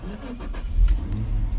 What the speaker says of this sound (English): So I'm going to start the car up, turn the key